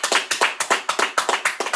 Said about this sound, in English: May as well clap for her now.